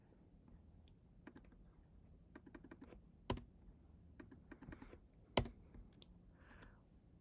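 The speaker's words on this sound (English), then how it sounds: "we're going to type in the starting point, which is Orlando International Airport" Quiet, close typing on a computer keyboard, with quick runs of key taps broken by pauses and two sharper, louder key strikes.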